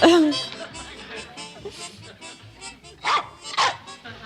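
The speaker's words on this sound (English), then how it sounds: "The stupid dog goes all to pieces in the time of crisis." A dog barks excitedly in a string of short, sharp barks and yips, loudest at the start and again near the end, amid the sounds of a comedy TV scene.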